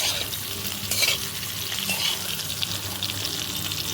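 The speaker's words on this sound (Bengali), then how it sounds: "কথা বলতে বলতে প্রায় লাল লাল ভাজাই হয়ে গেছে" Food fries reddish-brown in a pan with a continuous sizzle and repeated scraping stirs, close up and without talk.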